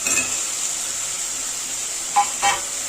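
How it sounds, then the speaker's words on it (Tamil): Tomatoes sauté in hot oil for a crab curry, giving a steady, even sizzle throughout, broken near the end by two brief, faint clinks. "இப்போ இந்த தக்காளியை நல்லா வதக்கிக்கலாம் இந்த எண்ணெயிலேயே"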